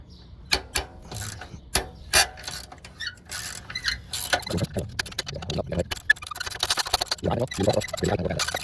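A ratchet loosens the two 12 mm muffler clamp bolts on the left-side exhaust of a Honda GL1500 Goldwing, giving quick runs of close, crisp clicks that start sparse and then become dense and steady.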